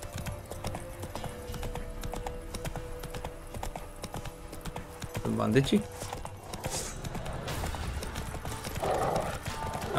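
Horse hooves clip-clopping steadily while riding in The Witcher 3 video game, with a horse whinny midway, someone talking over the top and ambient game noise.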